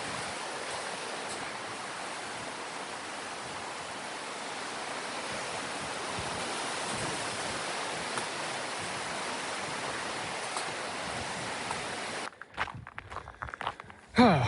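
Running footsteps patter along a riverside path beside rushing water. The steps are steady and rhythmic over a constant broadband hiss of flow, and a few scuffs and knocks come close by at the end.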